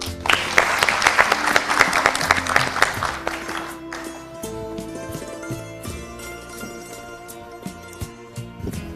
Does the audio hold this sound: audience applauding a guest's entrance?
yes